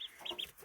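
Two-day-old ducklings, female birds of six different varieties, give three quick, faint, high peeps close by in a short burst, with nothing else heard.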